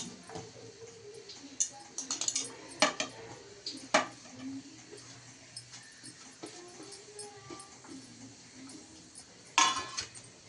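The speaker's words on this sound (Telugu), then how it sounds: "అన్ని విస్కర్తో ఇలా మిక్స్ చేసుకోవాలి." A whisk stirs a custard mixture with banana, grapes and apple in a bowl, making faint, irregular clinks and taps against the dish. A few sharper metallic knocks stand out over a quiet background.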